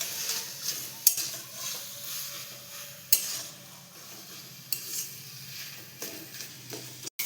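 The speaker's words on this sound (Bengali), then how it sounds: "ভালো করে নাড়িয়ে নেব।" Vegetarian taro leaf curry is stirred in a pan, giving soft scraping strokes with a few sharp utensil taps against the pan over a gentle sizzle, close and fairly quiet.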